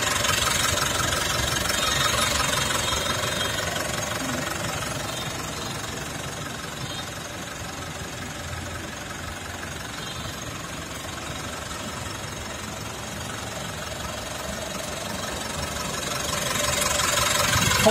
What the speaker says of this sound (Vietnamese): về cái động cơ đang chạy, đang nổ, máy rất êm, không có tiếng gõ lạch cạch gì cả